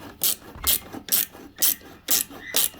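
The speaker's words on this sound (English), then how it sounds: "socket's a better idea, actually, than a screwdriver for these" Socket ratchet clicking in quick bursts while loosening bolts on the gearbox of a Polaris Ranger 570 EFI utility vehicle, about six distinct ratcheting runs of sharp pawl clicks, close and loud with no talking.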